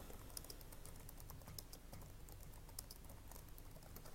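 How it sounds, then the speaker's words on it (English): Quiet tapping of a computer keyboard as a question is typed, with soft irregular keystrokes spread through the stretch and no speech. "So when I click on create question, you just type it in right here."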